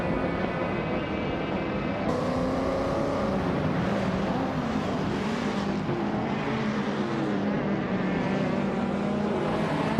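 A 1965 Lotus 40 and rival race cars in a racing video game, their engines droning steadily and loudly for the whole stretch, with layered whining tones rising and shifting as the cars run.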